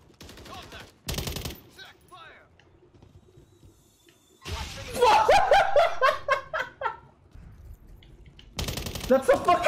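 Bursts of automatic gunfire in Modern Warfare 3, loud rapid volleys near the start, middle and end, mixed with laughter and excited voices between and over the shooting.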